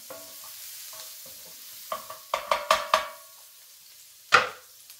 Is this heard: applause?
no